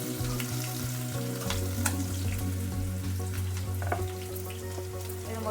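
Onions frying in a pan for a masala chicken curry, a steady close sizzle with scattered stirring clicks over a low continuous hum, no voices.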